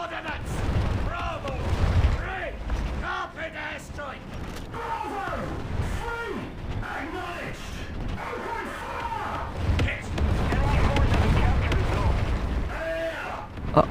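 Heavy cannon blasts from an SU-152 tank destroyer in War Thunder Mobile, deep booming shots and rumbling impacts amid mechanical tank noise, loud and close, with someone talking over much of the battle.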